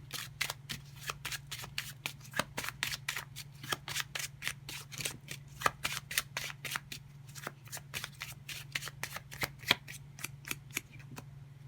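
Playing cards are shuffled again and again for a card reading, crisp riffling bursts repeating in a quick uneven rhythm, close and fairly quiet over a faint steady low hum.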